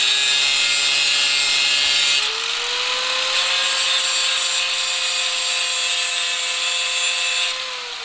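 A power tool cuts through a steel bolt during KA24DE engine timing work, giving a loud, steady high-pitched whine that drops in pitch as the blade bites in, close up with no voices.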